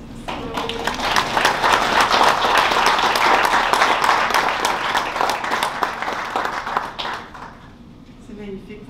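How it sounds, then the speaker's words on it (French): Audience applause at a memorial ceremony for a young St-Armand resident, sustained dense clapping for about seven seconds that fades out, with a voice speaking briefly near the end. "je pense qu'on devrait applaudir Mathias."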